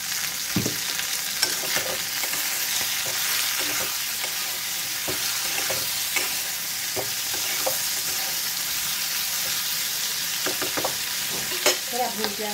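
Okra sautés in a pan with salt, giving a steady close sizzle for the whole stretch, broken by scattered scraping clicks of stirring and no voices.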